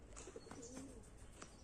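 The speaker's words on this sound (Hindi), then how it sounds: "ये देख लो अभी कबूतर आ चुके हैं सुबह सुबह," Pigeons cooing and calling on an early morning, soft repeated coos with a few faint chirps over steady outdoor background noise.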